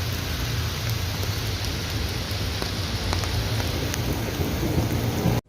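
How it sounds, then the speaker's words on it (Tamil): Heavy rain pours down steadily outdoors in Korea, a dense, continuous hiss with low rumbling, like a thunderstorm, filling the air until it stops abruptly at the end. "இப்போ மழை அதிகமாக பெய்ய ஆரம்பிச்சிருச்சு."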